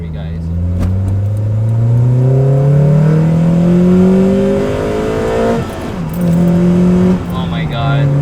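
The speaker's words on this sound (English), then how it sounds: "Let me see if I could get a exhaust clip or something for you guys." Acura TSX with an aftermarket exhaust revving up close, the engine climbing in pitch, easing off and revving again in loud pulls, with someone talking between revs.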